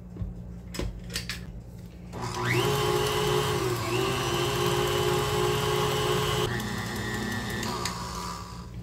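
Electric mixer beating cheesecake batter with lemon zest for a blueberry and Sicilian lemon cheesecake, a steady loud motor whine starting after two seconds, holding for several seconds, then dropping in pitch near the end.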